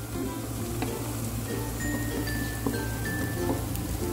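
Canned sardines cooking in about four tablespoons of oil in a pan, giving a steady, close sizzle and crackle with faint scraping from stirring throughout, and no talk.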